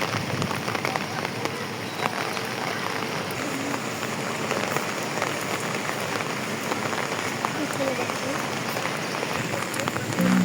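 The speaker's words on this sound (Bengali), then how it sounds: "এখন দেখতে পাচ্ছি বৃষ্টি আরও বেড়ে গেছে" Heavy rain pours down on the Rahmatganj cattle and goat market, a dense, steady hiss of drops hitting surfaces that holds for the whole stretch.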